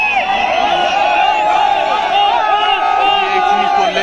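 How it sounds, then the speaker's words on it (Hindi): Large crowd of unemployed job seekers at a protest rally in Dehradun, a dense, loud and continuous wall of shouting and cheering voices with overlapping whoops, close and unbroken throughout. "एक बड़ी भीड़ और हल्ला बहुत"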